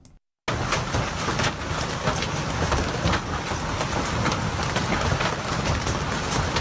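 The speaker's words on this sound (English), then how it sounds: "Well, giant hail in France." Giant hail pounding down during a severe storm in Occitania, France: a dense, loud, continuous roar of hailstones striking surfaces, starting abruptly after a brief quiet moment and holding steady to the end.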